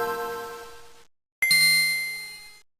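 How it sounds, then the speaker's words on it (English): A Nintendo Game Boy startup chime plays as two bright bell-like dings, the first fading out and the second ringing higher after a brief silence, clean and close. "The excitement of turning on the Game Boy and the iconic ding sound was the universal anthem for goodbye real world, hello adventure."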